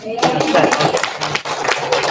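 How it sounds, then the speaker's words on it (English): A crowd claps in a dense, steady burst of applause, loud and close. "Let's give him a round of applause."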